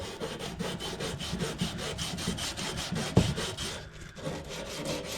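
A pipe end being deburred by hand to fit a SharkBite fitting, with quick, close, evenly spaced rasping scrapes, about a dozen strokes, then a sharp knock and a short pause before scraping resumes.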